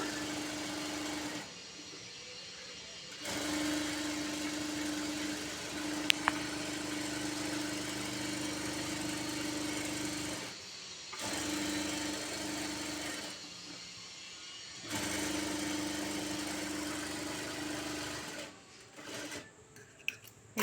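Sewing machine stitching a blouse lining to the blouse piece: steady mechanical whirring runs in several long bursts separated by short pauses, close and clear, with no speech.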